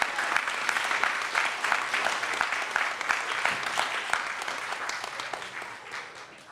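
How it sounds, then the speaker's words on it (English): Audience applause at the 2023 YouthBuild St. Louis graduation ceremony, a dense, steady wash of many hands clapping that holds strong for several seconds and then begins to thin and fade toward the end. "I'm gonna ask you to stand up and give yourselves a round of applause."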